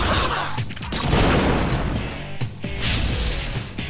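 Fire spell attack in the Persona 3 Portable video game, loud crackling bursts and crashing impacts that surge and fade over a few seconds, with several sharp hits.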